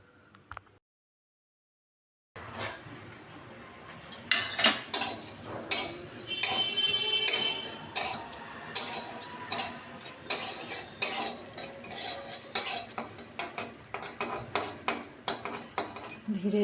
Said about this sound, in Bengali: এই সব কিছুকে আমি শুকনো খোলায় খুব ভালোভাবে ভেজে একটি ভাজা মশলা তৈরি